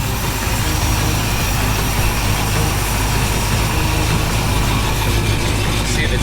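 A vehicle engine idles at a steady, loud, continuous rumble close by, running unchanged throughout with no speech over it.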